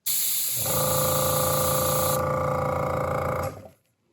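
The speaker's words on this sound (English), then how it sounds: "The little air compressor is quiet and fast." A paint spray gun fed by a small air compressor gives a loud, steady hiss with a humming drone beneath, running for about three seconds before cutting off sharply.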